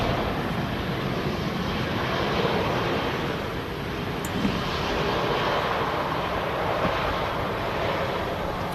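An EasyJet airliner arriving from Amsterdam at Manchester Airport gives a steady, broad jet roar that holds at an even level throughout, heard without any talk.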